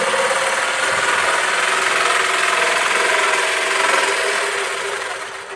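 A power saw that has just cut through a plastic 5-gallon bucket keeps up a loud, steady, close whir, then fades at the end as the blade winds down.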